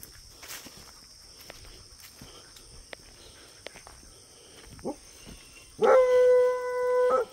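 Soft scattered footsteps and small knocks, then a dog's long, loud howl rises near the end and holds for over a second.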